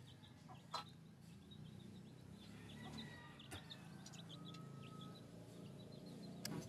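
Backyard chickens being fed spaghetti give soft clucks and short chirping calls over a low ambient hum, faint and scattered, with an occasional sharper tap or peck.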